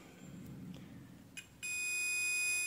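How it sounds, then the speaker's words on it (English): A multimeter in diode mode gives a steady continuous electronic beep over a short-circuited ceramic capacitor, starting abruptly after a short stretch of quiet handling noise and holding steady to the end. "If there is a short circuit, it will give a beep."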